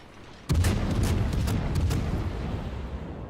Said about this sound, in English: I shoot my second salvo, get another citadel